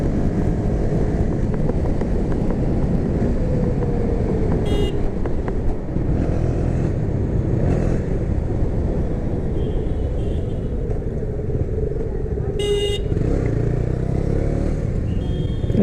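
A KTM Duke 250 motorcycle being ridden on an open road, with a steady, close engine drone under constant wind rush and a few brief sharp clicks.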